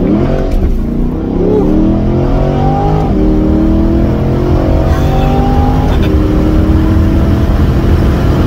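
A brand-new Chevrolet Corvette engine pulls hard during a ride-along, revving through several rising gear sweeps that each drop sharply at the shift. It is loud and close, heard from inside the cabin with no talking.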